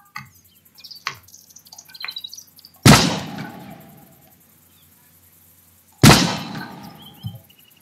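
Two loud sniper rifle shots from a new weapon in the Roblox game Apocalypse Rising 2, about three seconds apart, each a sharp crack with a decaying tail, over faint game ambience with small clicks and chirps.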